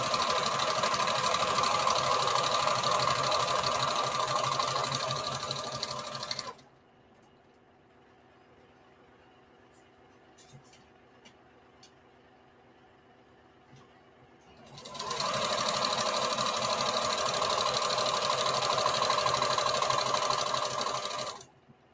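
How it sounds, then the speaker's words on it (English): A sewing machine stitches a bandana patchwork skirt panel in two long, steady, close whirring runs separated by a quiet pause with faint handling sounds. "this is our last panel to sew"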